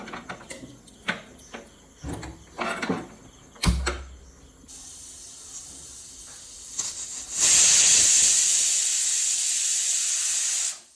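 A pressure cooker boiling green banana and potato vents steam in a loud, sustained whistling hiss near the end, preceded by scattered kitchen clatter and thumps.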